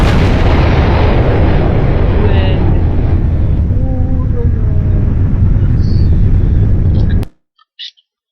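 A missile explodes in the Voltz mod for Minecraft, a loud, sustained rumbling roar that fills about seven seconds before cutting off abruptly, followed by a faint short pop.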